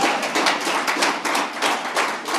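A corporate talk audience breaks into applause, many hands clapping in dense, uneven bursts that rise and fall.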